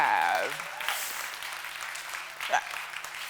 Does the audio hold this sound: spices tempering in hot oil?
no